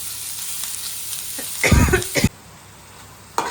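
Green chillies sauté in a pan with coriander, red chilli, turmeric and salt: a low sizzle swells into a loud, brief burst of frying and stirring, then drops off to near quiet.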